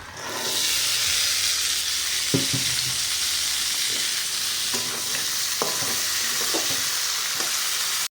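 Soaked chickpeas sizzle in a pan with onion and chili, giving a steady frying hiss broken by scattered clinks and scrapes of a spoon stirring.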